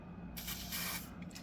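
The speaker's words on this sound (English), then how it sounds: "So I'm using this foaming CLP to basically float the copper out." Foaming CLP cleaner sprayed from an aerosol can into the action of a Huldra Mark IV rifle to flush out copper fouling after a jam, a close, steady hiss lasting about a second.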